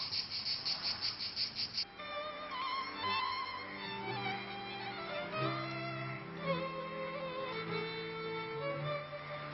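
Crickets chirp steadily near the Zingaro theatre outside Avignon on a summer evening, a dense pulsing trill with layered tonal music and ambience running beneath it throughout.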